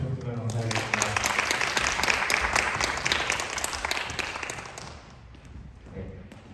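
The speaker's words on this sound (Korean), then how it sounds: "한 번 더 큰 박수 주셨으면 감사하겠습니다." Congregation applause at a worship service in Korea: a dense wash of clapping that swells early, holds steady, then thins out and fades toward the end, with a voice audible at the start.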